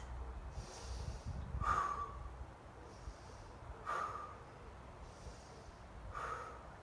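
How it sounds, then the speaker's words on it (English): Deep breaths during a yoga locust pose, three slow cycles of audible nasal inhales and exhales, close and soft, evenly spaced with no talking. "pull up as high as you can for 5 deep breaths"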